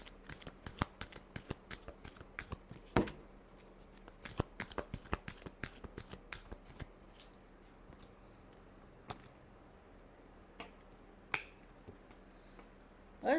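Tarot cards being shuffled by hand, a fast run of crisp riffling snaps and flicks up close, thinning out into occasional single taps and slides near the end, with no talking.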